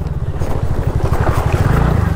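TVS Ntorq Race XP scooter ridden off-road, its body rattling and buzzing in a fast, steady low chatter under rushing wind noise.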